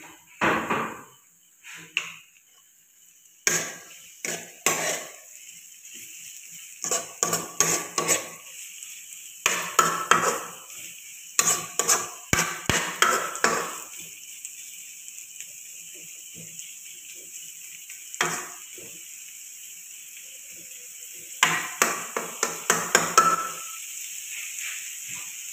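Onion frying in a pan while being stirred, mostly heard as repeated close scraping and clattering strokes of a utensil against metal in irregular bursts over a faint steady sizzle, without speech.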